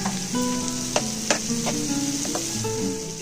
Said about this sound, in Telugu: కొంచెం ఫ్రై అయ్యాయి చూడండి ఇలా ఫ్రై అయ్యాక